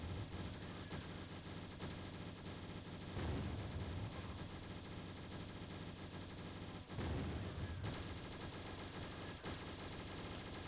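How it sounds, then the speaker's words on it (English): Laser-upgraded commando towers fire in the Roblox game Tower Battles, producing steady, rapid gunfire-like bursts that run throughout, with two louder volleys standing out over the constant barrage. "I'm gonna start upgrading these commandos to laser wield, which basically they shoot lasers"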